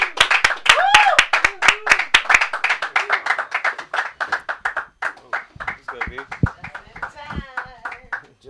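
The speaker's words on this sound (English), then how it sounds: "Everybody clap it up, clap it up, clap it up." At an open mic comedy night, an audience claps for a comedian in a sharp, evenly spaced rhythm that loosens into scattered claps while a voice talks over it.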